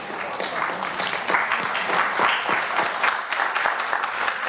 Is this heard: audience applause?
yes